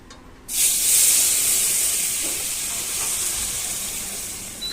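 A sudden loud sizzle bursts out as boiled dal and vegetables hit hot oil, then continues as a steady, fading hiss.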